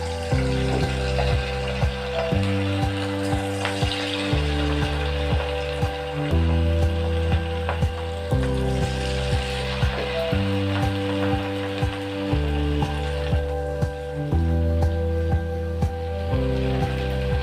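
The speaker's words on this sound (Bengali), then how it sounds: "আমি এবার পকোড়াগুলো ছেড়ে দেবো পকোড়াগুলো ভাজার জন্য" Potato pakoras deep-frying in plenty of oil in an iron wok, a loud, steady crackling sizzle with busy popping bubbles that continues without pause, with no voices.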